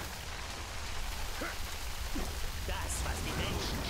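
Rain in the video game Middle-earth: Shadow of Mordor makes a steady, even hiss throughout. A few faint, brief sounds rise above the continuous downpour.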